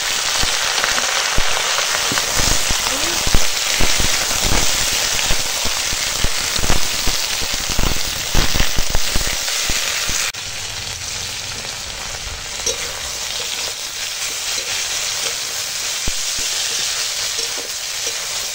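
Mixed vegetables, drumstick, green banana, yardlong beans, radish, papaya and eggplant, fry in a pan after bitter gourd, giving a loud, continuous sizzle with scraping stirs early on, then settling into a steadier, softer hiss.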